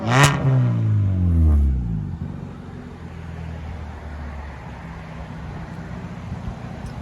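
2016 Kia Soul 1.6L with straight pipes gives one sharp, loud rev that climbs and falls within two seconds, then settles into a rough, burbling idle, close and alone.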